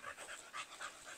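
A pit bull puppy from a large litter pants nearby in quick, soft, breathy puffs, a steady rhythm of short gasps with no talking.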